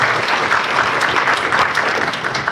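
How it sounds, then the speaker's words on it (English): Audience applause for panelists at a women-in-power event, a short burst of dense steady clapping from a room crowd, loud and close, with faint voices mixed in. "let's give a round of applause for all of our panelists"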